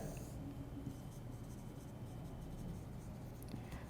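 Pen or pencil steadily writing maths working on paper for a Class 10 statistics exercise; a continuous soft scratching, close and faint, with no talking.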